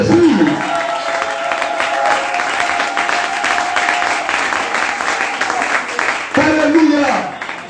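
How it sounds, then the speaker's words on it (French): A church congregation applauds and cheers in a dense, sustained wash of clapping, with a preacher's voice heard at the start and again near the end. "acclame Jésus."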